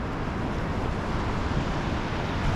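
Ocean surf washes steadily onto a beach at Orange Beach, a continuous broadband roar of breaking waves mixed with wind buffeting the microphone, with no voices.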